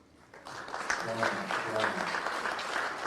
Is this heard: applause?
yes